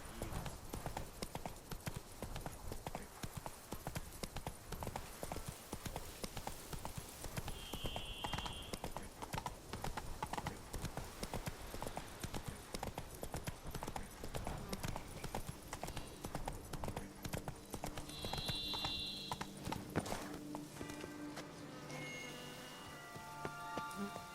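Steady clip-clop of Roach's hooves trotting through The Witcher 3 world, a continuous rhythmic clatter close by, with rain pattering on surfaces and a brief whinny toward the end.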